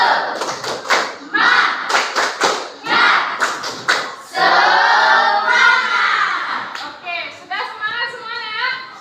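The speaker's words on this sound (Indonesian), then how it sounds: "1, 2, 3, tepuk semangat." A school class performs the rhythmic spirit clap, tepuk semangat: sharp bursts of group claps in quick patterned sets, close and loud, alternating with children chanting in unison.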